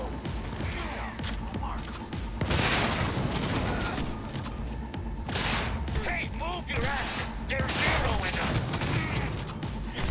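Sustained gunfire and mechanical weapon clatter during a firefight in the game Cyberpunk 2077, loud and continuous with heavier bursts, with occasional voices talking over the combat.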